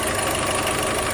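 A car engine with an abnormal running noise, idling steadily with a dense, continuous rumble and faint knocking texture, close and fairly loud throughout with no voices.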